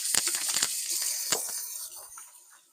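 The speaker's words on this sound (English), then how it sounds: "Let me rinse my hands off real quick." Running water rinses hands at a kitchen sink while roast chicken is being prepared, a steady hiss with brief splashes. The splashing is loudest at first, then fades to a softer trickle.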